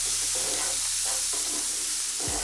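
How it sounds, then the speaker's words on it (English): Pearl barley toasts in a hot pan for a mushroom risotto, giving a steady, close sizzle with a soft crackle and no voices over it. "you can actually see the pearl barley is starting to toast really nicely"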